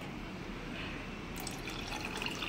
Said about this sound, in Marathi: आता आपण त्याच्यामध्ये पाणी घालून घेणार आहोत. दोन्ही ग्लास आपल्याला भरून घ्यायचे आहेत.